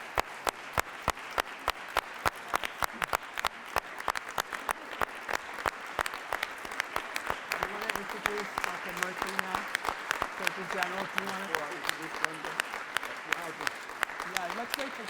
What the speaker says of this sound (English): all of us should stand and salute and applaud these incredible people